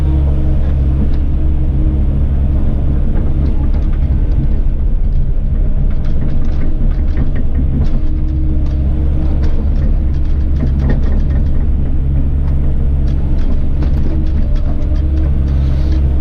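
A Volvo 140 hydraulic excavator works steadily, shifting sugarcane bagasse at a distillery, its low engine rumble droning loud and continuous with faint clanks and scrapes mixed in.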